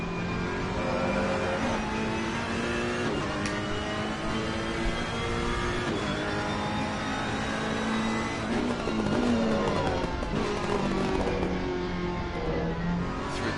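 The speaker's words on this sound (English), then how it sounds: "The 500 plus horsepower GT3 Ferrari." A 500-plus horsepower GT3 Ferrari race car at Imola in a racing video game, its engine droning and revving steadily through gear changes with pitch rising and falling, loud and continuous.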